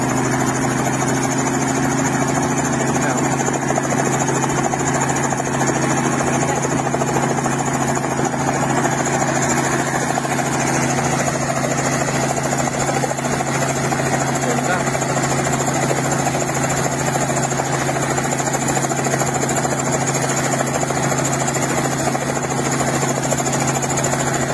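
Helicopter engine and rotor running on the ground before takeoff in a village, a loud, steady, close drone with a constant mechanical whine and no breaks.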